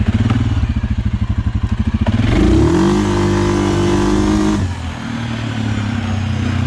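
A 2022 Suzuki King Quad 750 ATV with a Coop Mod 3 clutch setup launches hard in low range, a loud close engine rising from a pulsing idle into a strained, climbing roar that holds, then eases off, with no talk.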